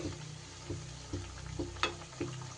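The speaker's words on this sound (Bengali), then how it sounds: "এইভাবে উল্টিয়ে পাল্টিয়ে ভেজে নিলেই হবে" Thekua dough pieces fry in oil, flipped over in the pan on lowered heat, producing a faint, bubbly sizzle with rhythmic soft scraping strokes roughly every half second.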